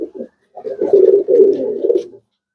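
Old breed tumbler pigeons cooing up close, a few short soft notes followed by a longer rolling coo that rises and falls, loud and clear with no talk.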